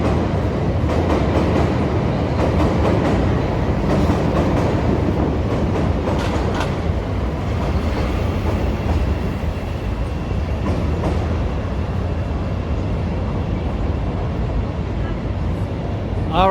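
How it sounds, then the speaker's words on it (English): A train rolls past steadily for the whole stretch in downtown Chicago, a continuous loud rumble of wheels on rails, close by with no pauses. "There's another train coming. I hear it."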